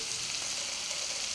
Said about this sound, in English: I am stir frying.